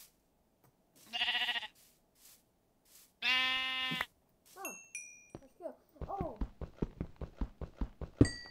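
Minecraft sheep on Xbox 360 give two clear, wavering bleats close by, followed by a rapid run of short chirpy game sounds and clicks, all fairly quiet with no talking.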